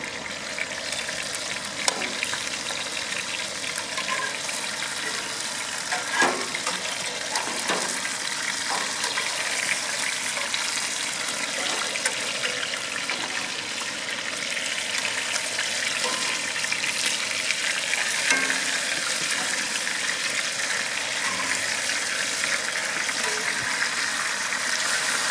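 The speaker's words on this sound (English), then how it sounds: "And then we're going to cook our potatoes." Potatoes frying on a pan over a backyard grill, a steady broadband sizzle and crackle running throughout with small pops and no talking.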